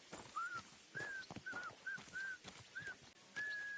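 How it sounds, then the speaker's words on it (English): Dog sounds from the video game Kingdom Come Deliverance 2: a series of short, rising whimpering or whistle-like calls repeating roughly every half second over a soft background, fairly faint. "You better call back that dog."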